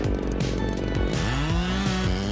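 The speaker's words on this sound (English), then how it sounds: "The chain runs sharp and clean, biting deep through each wood fiber with a firm cutting rhythm." A chainsaw of about 3.2 horsepower cuts through wood, its engine note loud and close as it bogs and climbs in pitch under load.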